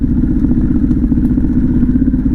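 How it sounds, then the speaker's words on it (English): A Harley-Davidson Pan America motorcycle engine holds a high idle with the clutch pulled in, a steady, loud, close rumble with rapid rhythmic pulsing and light mechanical clatter throughout. "It's still running at a high idle."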